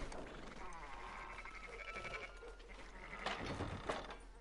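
Sheep bleating in the video game Red Dead Redemption 2, a few wavering calls over a steady rural game ambience, moderately close, with a sharper bleat near the end.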